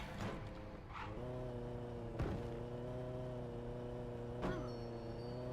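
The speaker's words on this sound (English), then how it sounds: "Lumpy Space Princess and her lumpy space car" Lumpy Space Princess's car in LEGO Dimensions makes a steady, humming engine-like drone with sustained tones. Occasional whooshing sweeps pass over it, all fairly quiet.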